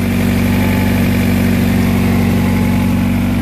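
A Honda Prelude engine, with its AC compressor removed, idles steadily with a low, constant rumble and hum, close by and uninterrupted, with no voices.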